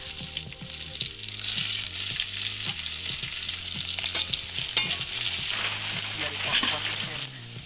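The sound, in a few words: spice paste frying in hot oil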